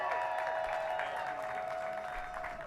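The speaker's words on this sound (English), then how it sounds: "Let's give a nice round of applause to Big Boy." Outdoor crowd at a Hollywood Walk of Fame ceremony in Los Angeles giving a round of applause for Big Boy, steady clapping held under a sustained tonal hum and fading slightly at the end.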